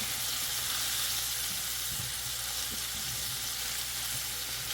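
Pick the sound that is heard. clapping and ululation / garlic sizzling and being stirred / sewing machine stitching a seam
garlic sizzling and being stirred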